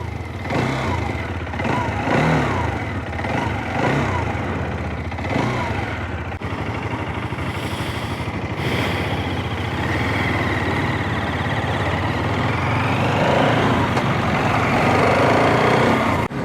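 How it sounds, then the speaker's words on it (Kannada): Exhaust note of a TVS Apache RTX 300 motorcycle idling in neutral: a steady, close engine drone holds throughout, with a few throttle blips near the start. "ಸೊ ಎಕ್ಸಾಸ್ಟ್ ನೋಟ್ ಕೇಳಿಸ್ಕೊಳ್ಳಿ."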